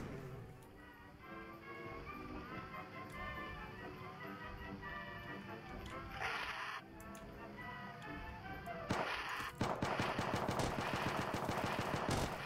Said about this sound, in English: This gun fires as fast as I can click.